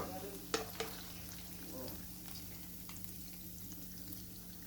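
A hamburger meat patty fries in a pan, with a soft, constant sizzle and a couple of sharp clatters near the start, all fairly faint.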